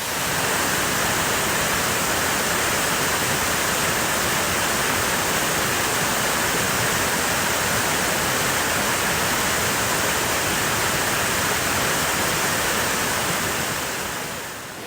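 Dalpura Creek in the Blue Mountains flows steadily, a continuous broad rush of running water close by, even and unbroken throughout with no voices.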